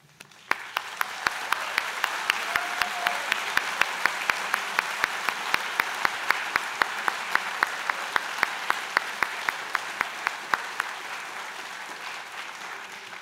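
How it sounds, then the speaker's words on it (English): Convocation audience at a school of skilled trades and apprenticeship gives the faculty a long round of applause, steady dense clapping from a large hall crowd with sharp rhythmic claps on top, fading out near the end. "I know this will bring a huge round of applause, let's recognize all of your faculty"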